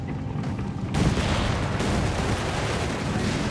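Gunfire and explosions in the video game Company of Heroes 3, a steady roar of distant battle with rumbling blasts that swells after the first second and stays dense to the end.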